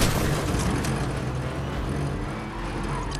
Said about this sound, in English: By the way, Riker, this car kind of sounds messed up